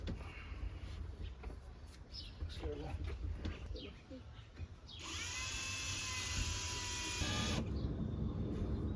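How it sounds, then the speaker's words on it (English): A power drill runs steadily for about two and a half seconds during a van ceiling build, loud and close, after a stretch of background talk and rustling. "I'm gonna go get the drill."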